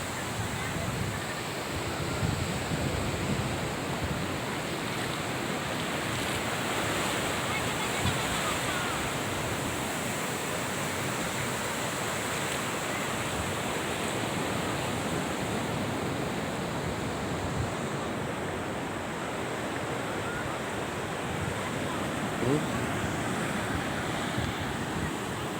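Waves wash continuously onto the beach at Pantai Cermin, a dense, steady surf roar with wind buffeting the microphone and no clear breaks between swells.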